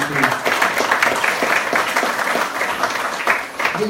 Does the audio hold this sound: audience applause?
yes